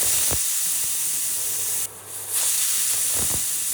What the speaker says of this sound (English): Now let's close the lid and cook until 2 whistles.